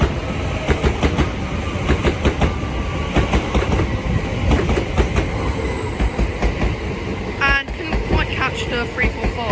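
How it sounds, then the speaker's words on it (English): A Greater Anglia Class 379 electric multiple unit passing at a London station on the line from Liverpool Street to Hertford East, a loud continuous rumble with rhythmic wheel clatter, brief high squeals near the end, and some talk over it. "here are some Greater Anglia Class 379s from London Liverpool Street to Hertford East"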